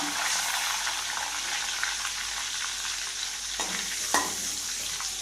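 Whole spices sizzle and fry in oil in a pan for an Afghani chicken gravy, a steady close crackle with a couple of sharper stirring knocks near the end.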